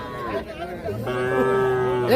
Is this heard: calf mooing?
yes